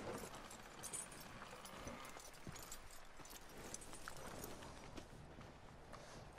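Horse hooves clip-clopping in the Red Dead Redemption 2 gang camp, several horses shuffling and stepping near a barn with steady soft thuds over a dense ambient bed, no talking.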